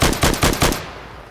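Gunfire from a rifle in a Minecraft gun mod: four quick heavy shots in a tight burst, loud and close, followed by a fading tail of echo.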